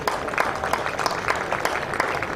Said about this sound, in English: Ripple of applause